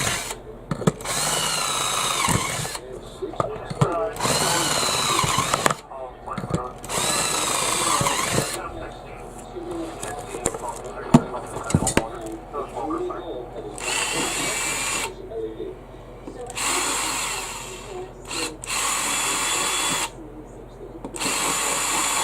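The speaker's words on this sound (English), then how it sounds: "So I got to drill some holes." A power drill whirs in repeated bursts, stopping and starting as holes are drilled, with short pauses and some talking between.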